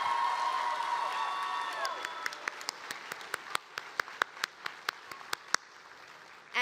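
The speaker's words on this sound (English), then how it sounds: "please give a round of applause to the Middle College High School HCC Fraga class of" At a Middle College High School HCC Fraga graduation, a crowd applauds and cheers the class of 2024, with a dense roar of clapping and whoops that thins out into scattered, separate claps toward the end.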